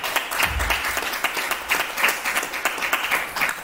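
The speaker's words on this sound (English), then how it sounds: "So you can just give him a round of applause for that." Audience applause at a university students' union handing-over ceremony in Jamaica, honoring the outgoing president: steady, fairly soft clapping from a crowd, with no talk over it.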